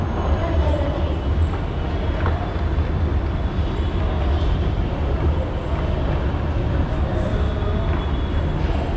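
Underground platform at Swargate metro station in Pune, a loud continuous rumble and roar of a metro train running, with steady broadband noise throughout and faint indistinct voices underneath.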